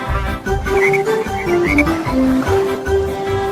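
Frogs croak in a steady run of throaty, buzzing calls, loud and close with brief pauses between, sitting over a tonal musical backing.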